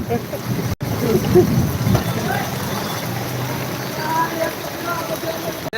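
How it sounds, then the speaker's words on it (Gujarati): Heavy downpour in Jam Khambhalia, deep enough to flood a bicycle, a steady broadband wash of rain with wind buffeting the microphone, loud and continuous with a brief dropout early on. "સાયકલ ડૂબી જાય એટલો વરસાદ છે"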